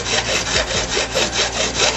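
Steady abrasive rasping as an aluminum weld made with Durafix rod is ground and dressed down, a continuous, fairly loud back-and-forth scraping with regular pulses and no voices.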